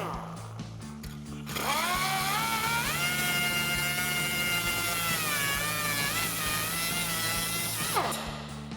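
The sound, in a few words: power tool cutting rusted exhaust clamps on RAM 2500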